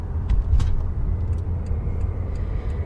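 Cars passing on a highway in an RCMP traffic stop scene from a radio-style audio drama, a steady low road rumble with occasional brief hiss, heard alone without talk.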